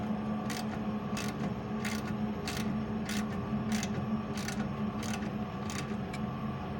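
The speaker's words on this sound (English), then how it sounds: "it's our 8mm socket set, and we're going to tighten up here" An 8mm socket ratchet tightens bolts on an Ideal Evomax 150 boiler during a strip-down service, giving a steady series of about fourteen crisp, evenly spaced clicks over a low background hum, close by and moderately loud.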